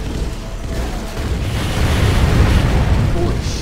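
An explosion in the Splatter video game, heard as a loud, sustained roaring blast that swells toward the middle and holds as a dense rumble with crackling debris.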